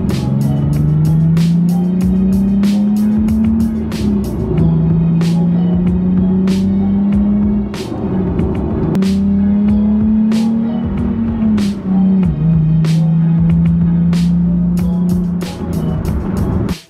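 Nissan 370Z fitted with an Auto Dynasty exhaust, a steady loud droning engine note with slight pitch shifts while driving, accompanied by repeated sharp clicks or knocks throughout.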